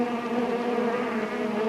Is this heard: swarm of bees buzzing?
yes